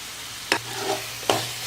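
Onion and tomato masala with chili powder, turmeric and spices sizzles in a pan, with two sharp scraping stirs over a soft steady frying hiss.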